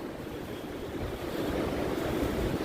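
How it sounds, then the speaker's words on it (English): Steady wind roars over rising river waves washing continuously onto the shore at Sainte-Anne-de-Bellevue, a constant surging rush with gusty microphone buffeting throughout. "very windy, and that's also adding to the waves, which is also pushing the water to the shore"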